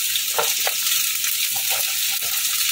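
Onion and capsicum frying in a pan with potato for soya chowmein, a steady close broadband sizzle with a few soft stirring scrapes, no talking.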